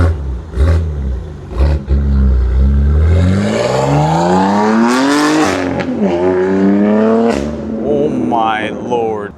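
A BMW G80 M3 with an IRL 4-inch modular midpipe exhaust revs loudly and close, climbing through rising and falling sweeps with raspy, aggressive tone. A voice is heard briefly near the end.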